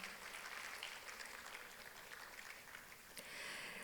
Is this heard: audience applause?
yes